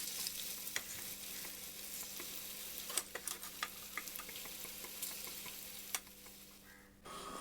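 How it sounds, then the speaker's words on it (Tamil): Potato pieces deep frying in oil, a soft continuous bubbling sizzle with occasional light clicks and taps from a utensil, fairly quiet and close, no voices. "அது எல்லாத்தையும் ஆயிலில் போட்டு ஃப்ரை பண்ணி எடுத்துக்கலாம்"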